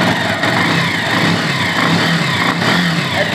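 A motorcycle engine revs up alone, a steady mid-pitched roar with rising pickup, close and loud throughout.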